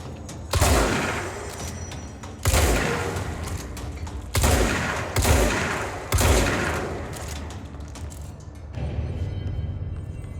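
Shotgun blasts from the video game Control, five heavy booming shots spaced a second or two apart, each with a rumbling tail, followed by quieter mechanical clatter.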